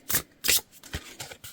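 Tarot cards are shuffled close up in a series of quick riffling, slapping bursts, several irregular flicks over a second and a half, crisp and alone with no talk.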